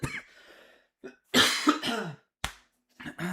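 A person's chest cough during a Game of Thrones Dragonfire live stream, a few harsh, close bursts separated by short pauses.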